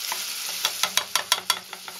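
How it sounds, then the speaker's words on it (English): Onions, pepper and corn frying in a pan get stirred, giving a quick run of close scraping strokes that fall into a rough rhythm over a soft sizzle, with no voices. "Let's give that a quick stir"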